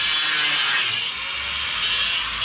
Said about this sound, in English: James is cutting off the old tabs on the original driver's seat that we mounted up